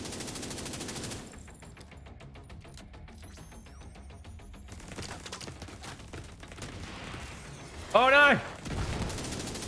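Turret gunfire in The Division 2, a rapid run of clipped shots at moderate level, mixed with game effects, with a short spoken exclamation near the end.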